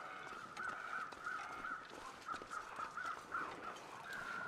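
Crows cawing in the survival video game The Long Dark, a run of repeated harsh caws at moderate distance over a steady wind-like ambient bed, with no talking.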